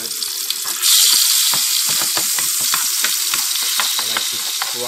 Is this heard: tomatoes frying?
yes